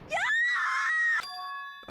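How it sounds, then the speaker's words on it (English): High, piercing scream from a Danganronpa 2 character, loud and sustained for about a second, then a bright ringing chime tone, with no talking. "That was a pretty serious scream, too."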